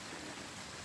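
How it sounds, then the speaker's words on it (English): Water pours steadily out of a drainage tube under a road during heavy rain, making a constant close rushing gush with no pauses. "here you see a lot of water flow going from this tube under the road"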